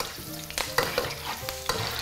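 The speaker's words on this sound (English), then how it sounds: "just start frying them until they turn a little bit darker" Lime leaves fry in oil, sizzling and crackling steadily in a pan, with scraping stirs and a few sharp taps against the cookware, no voices.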